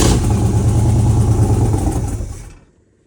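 A vehicle engine runs steadily with a loud, rough mid-pitched drone, holding level for a couple of seconds before cutting out and falling to near silence.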